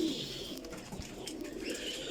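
Shahjahanpuri pigeons give soft, low cooing over a steady background hum, continuous across the short stretch with no voices.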